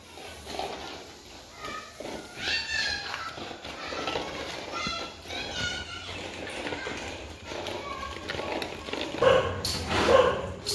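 Dog barking and running around a dark room, with a few sharp barks standing out near the end over scattered background noise and faint movement.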